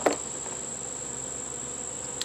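Bees buzz inside an opened beehive, a steady faint insect drone running throughout with a couple of brief louder knocks at the start and end.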